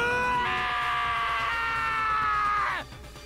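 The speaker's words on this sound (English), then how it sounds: "I heard screaming!" A long sustained scream in the video game Danganronpa, loud and tonal, holding for about two seconds before cutting off abruptly into quiet.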